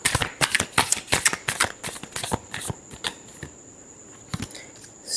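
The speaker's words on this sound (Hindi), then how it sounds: "Last shuffle." Tarot cards are shuffled by hand in quick bursts of crisp riffling snaps, dense at first and then thinning into scattered flicks and taps, close and fairly loud with no talking.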